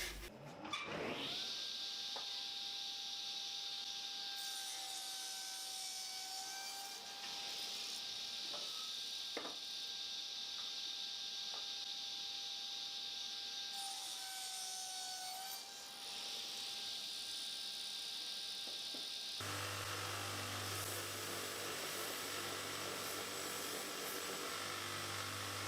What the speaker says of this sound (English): and then I'm going to sand the rest.